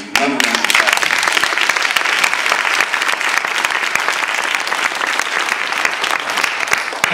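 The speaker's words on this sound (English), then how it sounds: "Another round of applause." Sustained, dense audience applause fills a historic theater during an education forum, loud and steady throughout with no voices breaking through.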